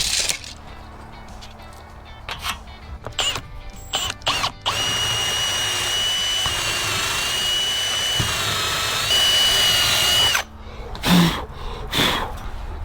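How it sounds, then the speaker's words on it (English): Power drill driving a bolt through wooden siding trim on a she shed, a steady whining run of several seconds after a few short bursts, fairly close and loud, ending with a brief thump. "So drilling that bolt through right there"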